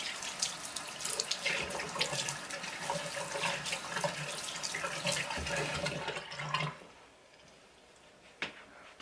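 A bathroom tap runs in a steady, close splashing stream while eyelash extensions are wetted, then the flow cuts off, leaving a quiet stretch and one faint knock.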